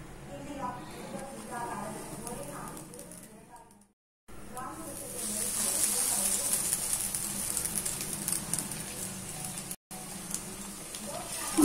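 Breaded potato cutlets frying in hot oil, a steady close sizzle and crackle that swells after a short gap, with a person speaking over it early on.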